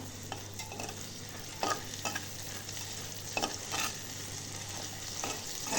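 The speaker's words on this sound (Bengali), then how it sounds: "এলাচ, গোটা লবঙ্গ, আর গোটা জয়িত্রী দিয়ে একটু নাড়া দিয়ে নিলাম।" Whole cardamom, cloves, mace and peppercorns being stirred in a small pot of hot fat, with a steady low sizzle and several scraping stirs of the spoon at intervals, fairly quiet and close.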